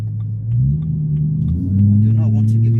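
A BMW M3 E92 V8 idles with a deep rumble, then its revs rise in two steps to a louder, higher drone; the engine sits close and steady throughout.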